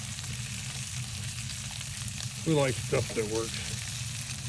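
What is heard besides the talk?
bacon frying on ATV camper stove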